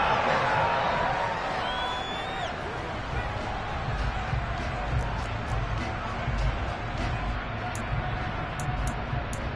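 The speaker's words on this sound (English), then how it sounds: "How about some applause for the defense there?" A stadium crowd at a football game roars steadily as it applauds and cheers for the defense, a broad and fairly distant wash of noise under a commentator's talk.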